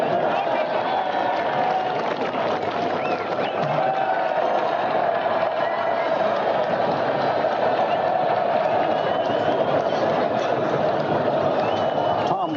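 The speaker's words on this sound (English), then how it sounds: "let us listen to this crowd in front of Buckingham Palace" A huge crowd cheers and roars outside Buckingham Palace during the 1981 royal wedding of Prince Charles and Lady Diana Spencer, a dense, steady wall of voices and applause that fills the whole stretch without letup.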